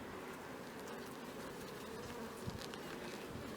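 Honeybees buzzing at an open hive during linden bloom, a steady faint hum of many insects with a few soft handling knocks nearby.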